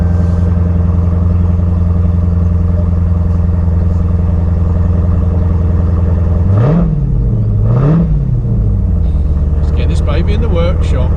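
A Dodge Challenger SRT 392 Hemi V8 idles with a loud, deep rumble, then is blipped twice in quick succession, each rev rising and falling sharply before settling back to idle.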